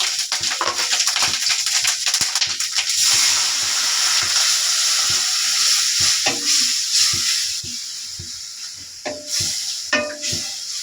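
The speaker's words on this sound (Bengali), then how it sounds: "বন্ধুরা, আমার পেঁয়াজটা ভাজা হয়ে গেছে।" Close, loud hiss of onions frying in a pan with ginger and garlic paste, a steady bright sizzle broken by scraping stirs and occasional spatters that grow sparser toward the end.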